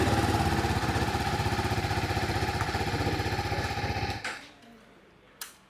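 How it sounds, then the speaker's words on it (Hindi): A 2024 TVS Apache RR 310 motorcycle engine runs with a loud, rapid, pulsing thrum that gradually softens, then cuts off abruptly, followed by a couple of brief mechanical clicks in near silence. "एक बार मैं आपको थोड़ा सा स्टार्ट करके दिखा देता हूँ"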